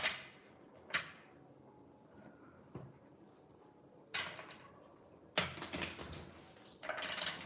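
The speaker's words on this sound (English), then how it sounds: "let's shuffle it for Jayashree" A deck of cards is shuffled by hand nearby, with several short riffling bursts and crisp flicks separated by brief pauses, ending in a denser flurry of card noise.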